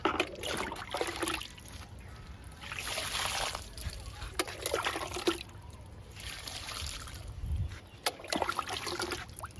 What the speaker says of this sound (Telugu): ఈరోజు ఫర్టిలైజర్ ఇస్తున్నాను కాబట్టి